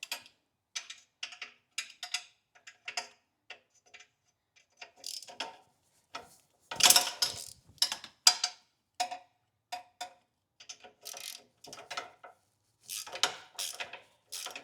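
Ratchet snugging up the catalytic converter bolts on an 80 Series Toyota Land Cruiser, fitted with factory Toyota gaskets: bursts of quick clicking at close range with short pauses between, no talking.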